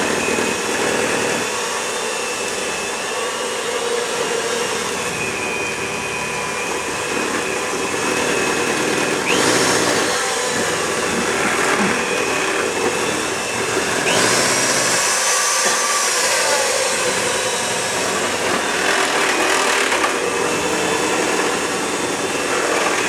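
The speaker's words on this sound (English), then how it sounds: "all I use is just a little handheld mixer. And unfortunately, you're gonna have to listen to this mix up" A small handheld electric mixer whirs through cake batter in a home kitchen, a continuous loud, high-pitched motor buzz that stays steady with slight changes in pitch as it works, and no talking.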